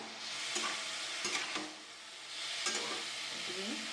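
Snake gourd with salt stirred in a pan, a soft continuous sizzle with a few scraping strokes of a spoon, close and quiet, with no speech.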